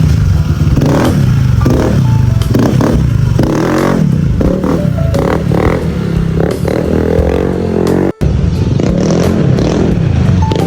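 Remapped Honda ADV160 scooter revving on a test ride, a loud engine note rising and falling in repeated throttle blips with road and wind noise throughout, briefly cutting out near the end.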